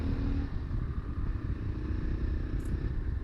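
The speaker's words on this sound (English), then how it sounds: "Let me just open the throttle a bit from low speeds." A 2024 Yezdi Adventure motorcycle engine rumbles low and close as the throttle opens from low speed, a steady, dense exhaust drone with no voices.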